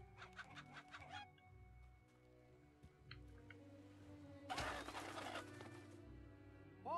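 Chicken clucking in the video game Fable Anniversary on Xbox 360, a few short clucks over steady game music, followed by a loud burst of scuffling and flapping near the end.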